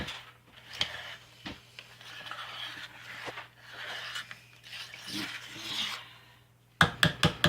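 A cake decorating spatula scrapes hot process lye soap down the sides of a pot with close, soft rasping strokes, ending in a quick run of sharp taps.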